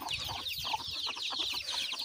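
Young chicks in a village cluck and peep continuously while waiting to be fed termites, a steady busy chatter of many birds close by.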